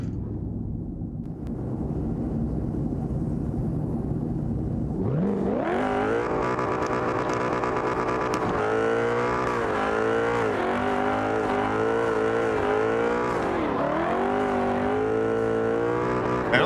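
A race car on a qualifying run accelerates hard, its engine starting as a low rumble and then rising to a loud, rising howl with quick gear changes, close and continuous.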